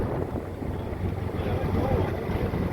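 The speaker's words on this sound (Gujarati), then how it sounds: "એટલે આપણી બોટ હવે પાછી વળી છે." A boat on a Kerala backwater near the Tamil Nadu border, swinging around to head back, gives a steady low engine drone and water wash with wind noise on the microphone throughout.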